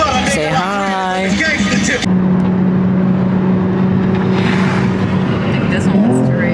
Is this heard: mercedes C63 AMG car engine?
yes